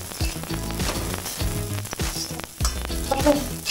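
Rice frying in a kadai for Bengali sweet polao, a steady close sizzle with rhythmic stirring scrapes repeating throughout, with no talking.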